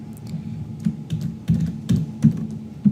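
Keys clatter on a computer keyboard in short uneven bursts of taps, close and fairly crisp, with small pauses between groups of keystrokes.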